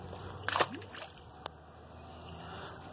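A caught bass is released from a dock back into lake water, making a brief close splash and slosh, followed by quiet water.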